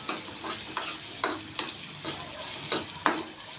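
Onions sautéing in oil for Tamil fish curry give a steady, close sizzle, with a spatula scraping and stirring through the pan about every half second, and no one talking.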